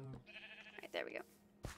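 Sheep in a video game let out a couple of short, quavering bleats in quick succession, close and clear, with a voice talking underneath.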